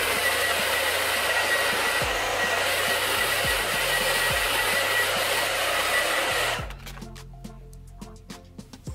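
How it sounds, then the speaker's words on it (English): A blow dryer runs on a synthetic wig with a loud, steady whooshing roar and a faint tonal whine, with low clicks underneath, then cuts off abruptly, leaving quiet handling sounds. "Might have to use my blow dryer."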